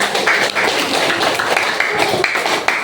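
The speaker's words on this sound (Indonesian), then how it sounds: "Tepuk tangan dulu untuk Dian." Classroom applause for a student, a steady wash of many hands clapping close by, filling the whole stretch with dense, overlapping slaps.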